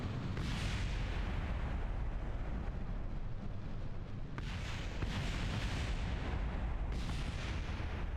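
A rocket engine roars steadily at launch in Kerbal Space Program, a loud, dense rumble that runs unbroken from start to finish, with a few brighter surges layered over it.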